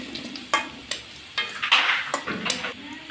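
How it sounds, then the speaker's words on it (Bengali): Onions with garam masala sizzle in oil in a pan while a spoon stirs them, making a string of sharp scraping knocks over a soft frying hiss. "এখন আমরা গরম মশলা দিয়ে দিলাম। পেঁয়াজটা ভাজা হচ্ছে তার মধ্যেই।"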